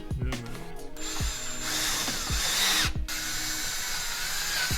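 A power drill bores a countersunk hole for a bolt, whirring loudly at close range in repeated short bursts with brief slowdowns between them.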